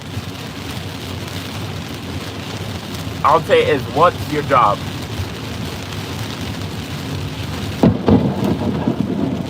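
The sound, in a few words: thunderstorm with thunder and rain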